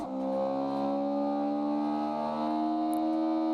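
Toyota MR2 engine while driving, a steady tonal drone with strong harmonics held at fairly constant revs, loud and close, with no talking.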